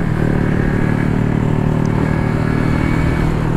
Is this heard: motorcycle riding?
yes